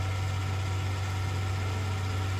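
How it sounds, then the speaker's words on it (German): A tractor engine in the video game Farming Simulator 19 runs with a steady low, even drone, constant and close, with no other sounds. "Der Traktor ist ein bisschen schwach."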